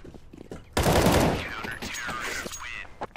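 A Negev machine gun in a shooter game lets off a loud sustained burst that tapers into scattered shots and impacts, with faint voices talking around it.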